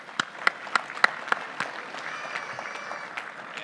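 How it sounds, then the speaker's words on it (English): Scattered applause from a banquet audience at an annual conference awards program: a few sharp, separate claps at first, then thin, sparse clapping trailing off at moderate distance. "I want to give you all a round of applause"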